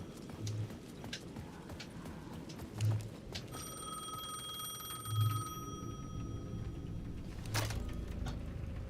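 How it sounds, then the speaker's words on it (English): A payphone rings in the video game Alan Wake 2. One sustained bell-like electronic ring comes in midway and holds for a few seconds, with dull periodic thumps and a low background rumble underneath and no speech. "The payphone at the edge of the plaza was ringing again."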